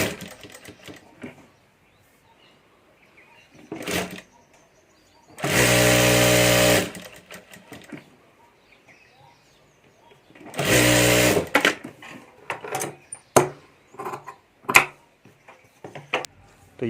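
A sewing machine stitches a pocket onto a purse lining in two longer runs and several short bursts, near and loud, with quiet gaps of handling noise between them.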